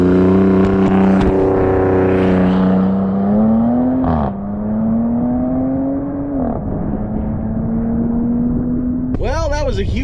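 Ram RHO pickup truck exhaust recorded up close at a full-throttle launch, a loud droning engine note that climbs and shifts through gear changes, with a sharp disruption near the end.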